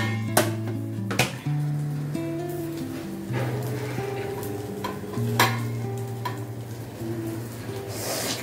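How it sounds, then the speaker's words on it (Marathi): A Goan Saraswat cucumber cake (kakdi tavsali) cooking in a pan as it is covered with a lid and flipped: steady sizzling under a low hum, with a few sharp metallic clanks of lid and pan, close and without speech. "आता आमी एक झाकण घालूया आणि हो उलटो करूया।"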